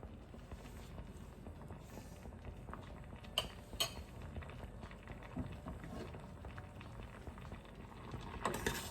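Soft, steady bubbling of green tomato curry made with milk simmering in a pot, a faint continuous boil with a couple of small clinks partway through and no speech.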